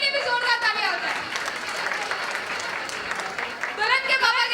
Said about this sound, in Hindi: एक बार उनके लिए भी जोरदार तालियां हो जाए।